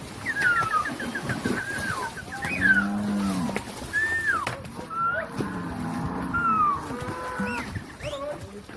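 Cattle moo repeatedly on a commercial farm during tick-control dipping, several drawn-out lowing calls from nearby animals overlapping with bird chirps and rooster-like clucks in the background.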